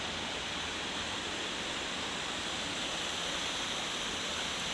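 Rushing river water near Jonkershoek waterfall flows under a bridge in a steady, dense hiss that stays even and close throughout, with no voices.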